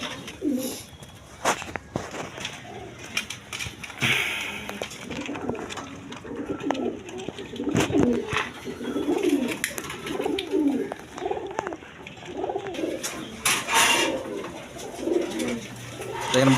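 Mukkhi pigeons coo continuously nearby, overlapping low rolling calls in a steady rhythm with scattered clicks and rustles, and a little talk in the background.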